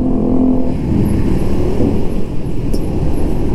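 A Gova F600 motorcycle ridden at speed gives a loud, steady engine drone mixed with heavy wind rush, continuous and close with no voices.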